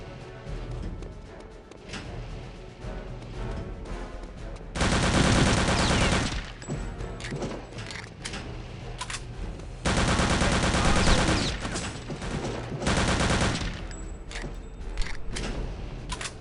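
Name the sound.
gunfire from enemy soldiers in the video game Return to Castle Wolfenstein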